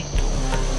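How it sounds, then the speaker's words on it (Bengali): Crickets chirping on a dark night in a Bengali cartoon ghost story, a continuous dense insect trill starting after a brief quiet moment and holding steady, fairly loud and alone. "চারপাশে অন্ধকার ঝিঝি পোকার ডাক"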